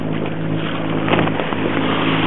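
Wind and water rush steadily around a sailing boat at sea off southern Spain in December, a continuous close roar with low hull and motor-like rumble and no voices.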